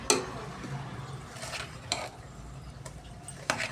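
Stirring mandakki oggarane, puffed rice, in a pan with a spoon, giving soft rustling scrapes and a few sharper clinks of utensil against metal, close and fairly quiet.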